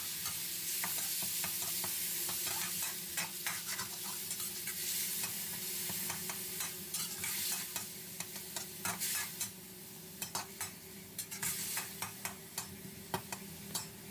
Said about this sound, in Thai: จากนั้นเราก็ผัดให้หมูสับของเราสุกครับ